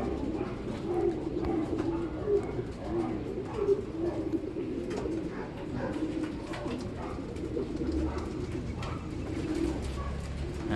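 Pigeons in a loft coo continuously in low, throaty rolling calls, several birds overlapping close by, with faint rustling and a soft voice now and then underneath.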